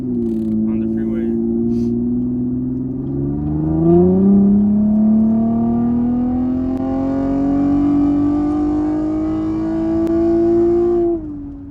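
A loud Chevrolet Camaro accelerates hard on the freeway, its engine note rising steadily in pitch across the run, heard up close from inside the car and cutting off near the end.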